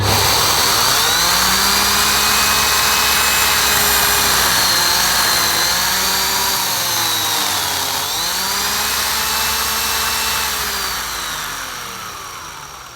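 A Numatic Henry Eco vacuum cleaner with a low-wattage motor running steadily, a loud continuous whine and roar with shifting pitch as the head moves, close and without speech, fading slightly at the end.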